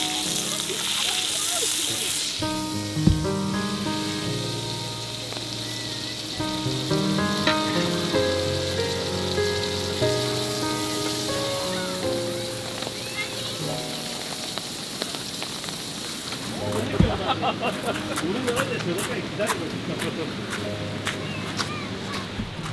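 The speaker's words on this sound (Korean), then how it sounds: "비가 지금 어제보다는 좀 나은데 비는 좀 덜 오는데 바람이 그대로고" Steady rain hiss at Hwawangsan auto campground on a cold, windy day, running the whole time beneath clear tonal sounds such as voices or music, with a couple of sharp knocks.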